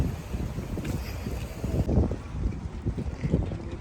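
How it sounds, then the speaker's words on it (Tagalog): Strong wind buffets the microphone with a loud, rumbling roar that gusts unevenly throughout. "Lakas ng hangin, guys."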